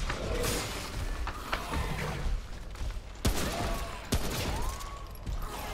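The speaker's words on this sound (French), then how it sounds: "Ouh là là, ça tire plein là-bas." Heavy gunfire in the video game Remnant: From the Ashes, bursts of shots crackling at a distance with a few sharper, nearer blasts amid mechanical clatter and whooshing game effects.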